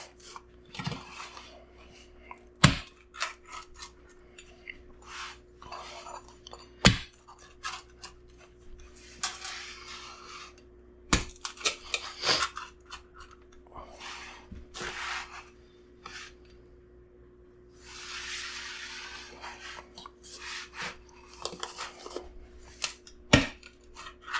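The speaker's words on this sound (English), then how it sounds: "I don't know how well the camera's picking up that crunch." Crisp, dry crunches of someone biting and chewing a crispy homemade sourdough pizza crust, close up, as irregular sharp snaps and rustling bursts over a steady low hum, with no talking.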